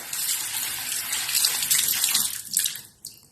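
Running tap water pours through a colander to rinse sprouted grain, a steady close gushing splash that fluctuates, then briefly breaks and trails off near the end, with no voices.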